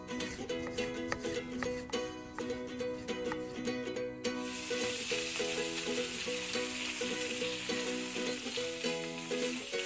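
Sliced tomato fries in hot desi ghee in a kadhai with a continuous loud sizzle and crackle, with a steady musical tone running beneath it.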